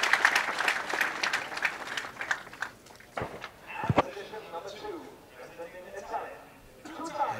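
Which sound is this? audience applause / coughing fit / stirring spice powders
audience applause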